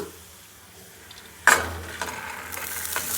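Urad dal frying in a pan, starting with a sudden loud hiss and crackle halfway through, then a steady sizzle with light stirring scrapes, no voices.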